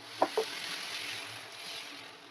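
Thin bottle gourd dosa batter spreads and sizzles on a hot pan, a steady soft hiss that follows two quick knocks at the start, close and alone with no talk.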